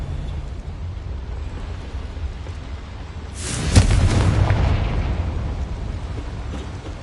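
Confringo blasting spell from Hogwarts Legacy goes off as a sudden fiery burst, a sharp crack followed by a rumbling, crackling boom that swells and slowly fades over a constant game background.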